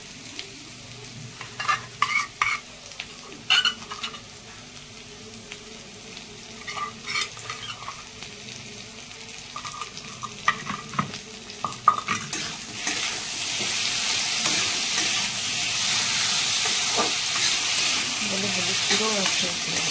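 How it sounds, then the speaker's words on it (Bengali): Spice paste of cumin with whole green chillies, turmeric and salt is stir-fried with kohlrabi, potato and puti fish for a curry, giving scattered spatula scrapes and clinks at first, then a steady, louder sizzle that builds and holds to the end. "বন্ধুরা আমি এই মশলাটা দিয়ে এবার আমি তরকারিটা কষিয়ে নেব।"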